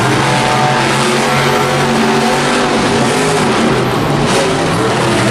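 Loud, continuous roar of monster truck engines, Overkill Evolution and Soldier Fortune, racing in a Monster Jam stadium event in Anaheim, sustained and dense without a break.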